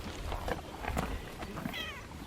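A house cat named Kitty gives a short, faint meow near the end, following some low rustling and muffled handling noise close by.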